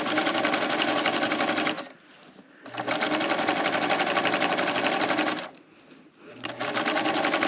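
A sewing machine stitches fabric in a fast, even, close-up whir, pausing twice for about a second before resuming.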